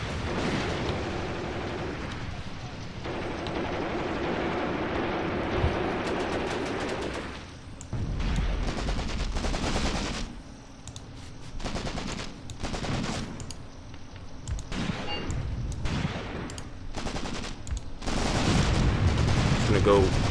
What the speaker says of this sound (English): that machine gun is a pain right now